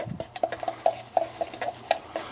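A utensil stirs a marinade mixture for tri-tip in a bowl, producing quick repeated clinks and scrapes against the bowl in an irregular, close rhythm with no talk.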